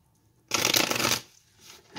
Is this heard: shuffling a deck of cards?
yes